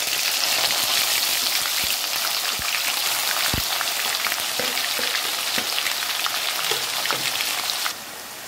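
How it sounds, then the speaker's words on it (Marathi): A paste of onion, garlic, ginger and green chilli frying in hot oil gives a dense, steady hiss like rain on a surface, with scattered sharp pops throughout, close and even, no voices. "आता यात मी घालत आहे कांदा, लसूण, अद्रक, हिरवी मिरची ची पेस्ट।"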